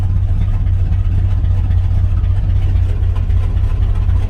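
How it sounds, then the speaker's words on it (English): An old Chevy 1-ton tow truck engine, revived after sitting abandoned, idles steadily with a loud, close, continuous low rumble and no talk. "Let's see if it stays idling or if we need to hook the choke up."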